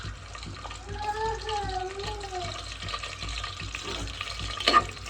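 Onions frying in a pan for chicken biryani, a soft steady sizzle with occasional stirring scrapes, faint and close, while a voice talks over it.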